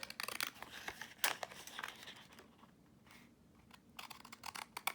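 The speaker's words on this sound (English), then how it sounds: "just stick it on here and grab my little deckled scissors" Paper is cut with small deckle-edge scissors at a craft table, snipping in quick clustered bursts with crinkly rustles, a short quiet pause, then more soft snips; close and faint.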